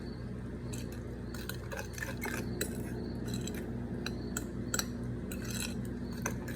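A spoon or spatula folding shredded carrots into gluten-free carrot cake batter in a bowl, with repeated soft scraping clinks and wet squelches at an irregular rhythm, close and moderately quiet.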